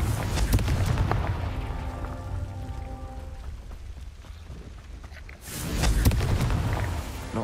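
A Confringo fire spell in Hogwarts Legacy erupts in booming blasts over a crackling, debris-like spatter, with a second loud burst landing near the end after a quieter lull.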